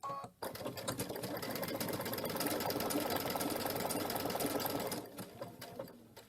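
A sewing machine stitches an appliqué around a curve in a quilting class, running in one steady rapid mechanical chatter for about four and a half seconds before stopping, with quiet handling sounds after.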